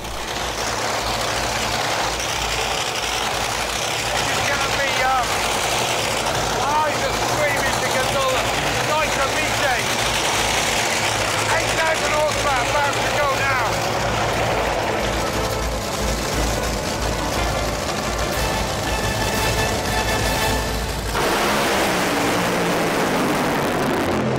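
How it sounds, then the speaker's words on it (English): A record-attempt car warms up its tyres on a track, its engine roaring steadily and loudly for about twenty seconds before the sound drops away, with someone narrating over it. "That was Rod just warming up his tyres."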